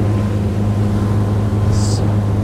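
A 2022 Schaefer 400 motorboat cruising at speed at about 3,200 revs, its engine a steady, loud low drone with water and wind rush over it, continuous for the whole stretch.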